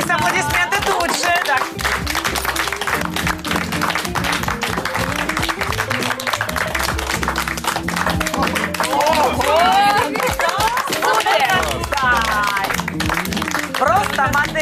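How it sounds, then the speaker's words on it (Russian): A television studio audience claps and cheers during a fashion makeover show, dense continuous applause running throughout with voices talking over it. "Здесь аплодисменты тут же!"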